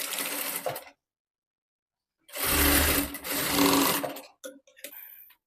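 Sewing machine stitching a strip on a princess-cut blouse: loud close running bursts, a short one, a pause, then a longer stretch, ending in a few brief clatters.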